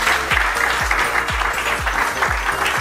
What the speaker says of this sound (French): je vous prie de les remercier par une salve applaudissements